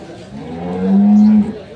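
A dairy cow at the Kaharol livestock market in Dinajpur gives one long, low moo close by, rising and swelling before cutting off, over a soft murmur of the crowded market.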